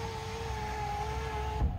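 An aftermarket power window motor fitted to a parked Tata Punch lowers the glass with a steady, smooth electric whine and hum that stops at the end.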